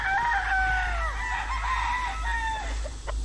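Roosters crow loudly at a chicken farm, one long falling call followed by overlapping crows and clucking from other fowl, with a steady low hum of background noise throughout.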